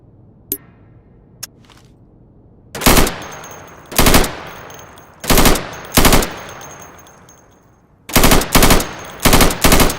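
Guns in the tactical shooter Insurgency fire at targets through plywood. Two faint taps come first, then loud close bursts of automatic fire in short groups, each lasting a fraction of a second, ending in a rapid cluster of three.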